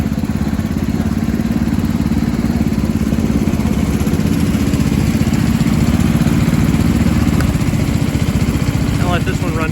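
A Gravely garden tractor engine idles steadily with a quiet muffler, a continuous low, even drone that stays close and unchanging throughout, with a few faint clicks near the end.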